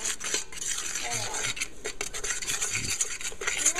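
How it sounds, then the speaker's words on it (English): Spoon scraping and stirring sugar into strawberry jam in a metal pot, a continuous rasping clatter with occasional knocks, close and without voices. "And you're supposed to add sugar all at once. And stir it in there."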